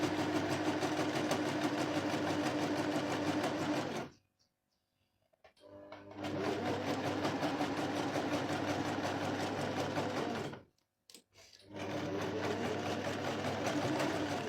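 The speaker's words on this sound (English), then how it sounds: "Lock stitching it again" A sewing machine lock-stitches a padded bra cup in close, steady bursts of rapid stitching, with two brief pauses where the motor goes quiet before it runs again.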